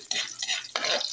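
Ginger and garlic being sautéed in a pan for pork adobo: three short bursts of scraping, stirring and light sizzling, close and moderately loud.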